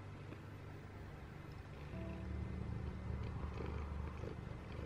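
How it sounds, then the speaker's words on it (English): A cat purrs up close in a quiet room, a low, steady, continuous rumble that grows slightly stronger partway through, with no talking. "You having a purry purr now, Biggie?"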